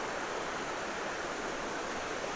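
A river stream rushes steadily at Semungkis campsite in Hulu Langat, a dense continuous broadband wash of flowing water, loud and close with no breaks.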